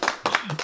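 A few quick hand claps give a short cheer, three or four close, sharp bursts in under a second, with a voice murmuring underneath.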